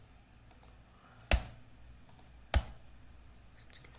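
A computer mouse gives two crisp right clicks about a second apart, close and sharp against a quiet room.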